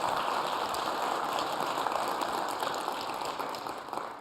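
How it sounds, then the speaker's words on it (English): Sustained crowd applause fills a large conference hall at Cisco Live in Las Vegas, a steady dense patter of many hands heard from a distance, fading slightly near the end. "Big round of applause for Espen."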